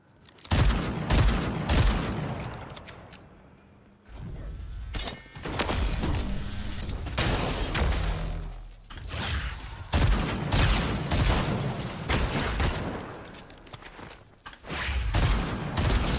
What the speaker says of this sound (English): It makes firework noises, I just realized.